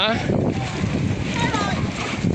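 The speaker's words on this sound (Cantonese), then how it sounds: "第二船上泊岸啦，蘇哥啦" A boat pulls in to dock at a pier in Double Haven, Hong Kong, giving a steady broadband rumble of engine and water that runs throughout while several people talk over it.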